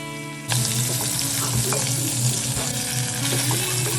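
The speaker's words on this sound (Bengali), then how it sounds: "মাছগুলো ভাজার জন্য কড়াইয়ে প্রথমে পরিমাণ মতো তেল নিয়ে নিচ্ছি এরপর একে একে সাবধানতা অবলম্বন করে আমরা মাছগুলো ভেজে নিব" Pieces of rohu fish sizzle and crackle steadily in hot oil in a wok, a loud, close, continuous frying hiss that starts abruptly and keeps going without pause.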